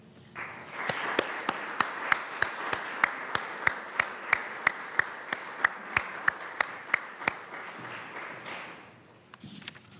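An audience applauds a scholarship recipient with steady, moderately loud clapping that runs for several seconds, punctuated by sharp individual claps, then fades out near the end.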